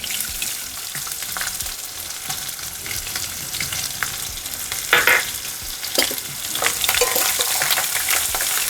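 Chillies and onion frying in a pan, a close, steady sizzle with repeated stirring scrapes and brief louder spatters around the middle.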